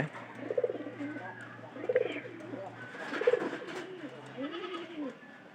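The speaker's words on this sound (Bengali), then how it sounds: "কবুতরের ডাক ভালো আছে" Pigeons coo in a loft, three or four rounded, rising-falling calls spaced a second or so apart, moderately close, over a steady low hum and faint background noise.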